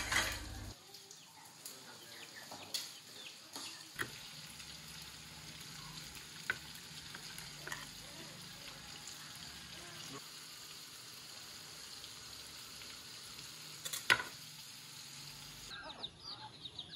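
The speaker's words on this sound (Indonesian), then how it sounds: "Kemudian aku goreng-goreng dulu ini udangnya" Shrimp fries in a pan with a steady low sizzle and occasional sharp crackles and pops, heard close up for the whole stretch while a person talks in the background.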